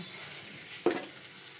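Ground chilli paste with turmeric and salt fries in a pan as a quiet continuous sizzle, broken by one brief stirring scrape.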